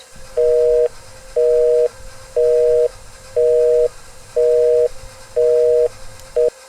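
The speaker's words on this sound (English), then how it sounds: "call waiting. If somebody called your house and you happened to be on the phone, they got this sound." Old home landline call-waiting tone: a steady, clear electronic beep repeating about once per second, seven pulses with the last one cut short, heard alone over faint background hiss.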